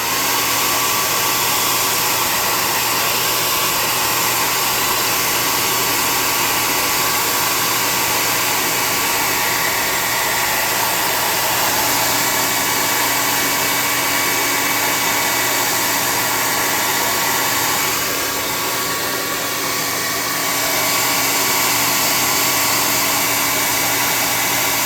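A hair dryer blows hot air over speed paints on a miniature gunslinger figure for a tabletop RPG, a steady loud whoosh held without a break for the whole stretch.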